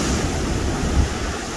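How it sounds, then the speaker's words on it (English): Ocean waves surge steadily onto rocky shoreline at Little Whale Cove, Oregon after a storm, a continuous loud roar of surf with wind noise and a slight swell near the one-second mark. "I'm out here watching these waves come in"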